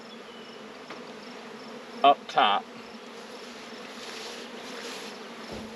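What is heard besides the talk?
honey bees buzzing around hive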